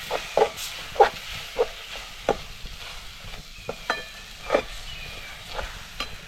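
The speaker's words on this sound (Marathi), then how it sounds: "गॅस कमीच करून आपल्याला हे सर्व साहित्य व्यवस्थित मिक्स करून घ्यायचं आहे" A coconut-mango laddu mixture is stirred in a pan over low gas, making repeated scraping strokes in an uneven rhythm, close and clear, with a faint sizzle between strokes and no talking.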